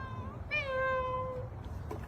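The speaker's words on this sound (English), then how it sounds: "Those are some good meowy kitties." Two cats, one of them orange, meowing from a window: a clear, drawn-out tonal meow, with fainter meow-like calls before and after it, over low background rumble and no talk.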